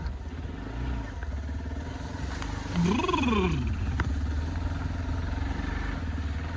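A motorcycle engine drones steadily up close while riding through mud, surging into a brief rising rev midway before settling back to a rough, even rumble.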